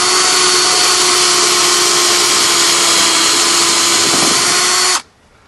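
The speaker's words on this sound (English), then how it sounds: "So we'll get this guy drilled out." A power drill runs loud and steady, drilling out a screw on a Casita trailer light fixture, holding one continuous whine for about five seconds before cutting off abruptly into near silence.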